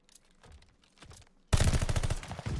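Gunfire in Call of Duty: Vanguard, faint distant shots at first, then a sudden loud, close automatic burst of rapid rounds.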